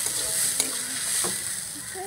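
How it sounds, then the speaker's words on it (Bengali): Grated potato frying in a pan with a little oil, stirred after the lid comes off: a soft continuous sizzle with a few clinks and scrapes of the spatula, fairly quiet and without talk. "এখন আমি ঢাকা চাপাটা তুলে দিচ্ছি, একটু নাড়াচাড়া করে নেব।"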